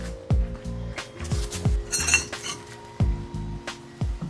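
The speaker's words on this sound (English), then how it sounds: "Breaker bar time." A breaker bar works on tight strut tower bolts of a Celica during suspension work, giving repeated close metallic clinks and clicks in an irregular rhythm.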